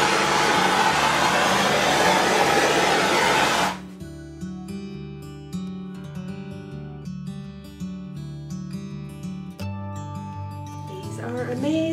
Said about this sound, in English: So just a little bit of light torching.